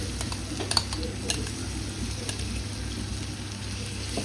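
Green chilies and curry leaves sauté with ginger garlic paste in a pan, a steady close sizzle with occasional light scrapes and stirring clinks, no talking.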